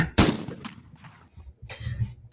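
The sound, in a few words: gunshot sound effect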